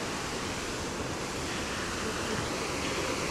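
River rushing at night beside illuminated waterfalls in Antalya, Turkey: a dense, steady roar of flowing water fills the whole stretch, constant and close, with no voices.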